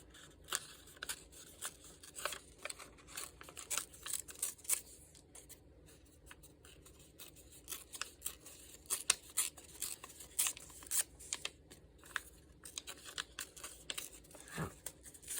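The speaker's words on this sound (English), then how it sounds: "we're just gonna kind of rip them out" Paper printouts torn out by hand, a run of crisp rips and crinkles at close range, coming in irregular bursts with short pauses between.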